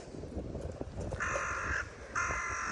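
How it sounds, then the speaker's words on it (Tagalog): A crow caws twice on a walking route in Japan, two loud, sustained harsh calls standing out clearly over low ambient street and footstep noise. "Ingog ng uwak."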